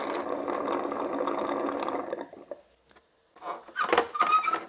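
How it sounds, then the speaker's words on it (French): An Ecovacs T30 Pro Omni robot vacuum base pumps dirty water up into its tank, a steady whooshing suction that cuts off midway, then a shorter gurgling, slurping burst after a brief pause. "vous entendez l'eau qui remonte dans le réservoir d'eau sale"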